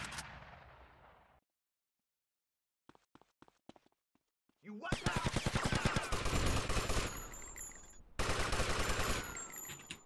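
Gunfire in GTA Vice City: a brief burst, then near-silence with a few scattered clicks, then heavy, loud, rapid automatic fire running for several seconds, broken by a short pause before resuming.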